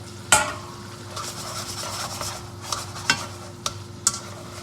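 Soft sizzling and frying hiss from a pan while cooking carbonara, steady and fairly quiet, with a few sharp clicks and scrapes breaking through.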